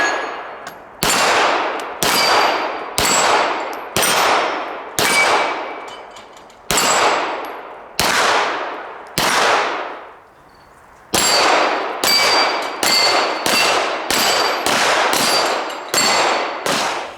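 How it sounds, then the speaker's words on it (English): Shots from a Smith & Wesson M&P 2.0 pistol ring off steel targets at an outdoor range, with about twenty loud, sharp clangs, each decaying quickly, fired in quick strings separated by short pauses. "throughout this range here of steel, we're getting consistent hits"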